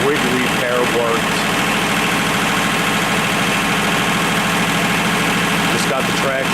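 A John Deere 1050 tractor engine runs steadily at idle out in the cold, a loud, close, continuous low rumble with faint knocking that a voice talks over.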